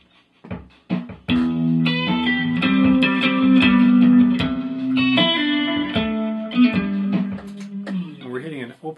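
Electric guitar playing a two-measure turnaround in a blues-style song, opening on an open E with a familiar lick then moving to open A, with sustained ringing chords and single-note lines, clear and close, no talking.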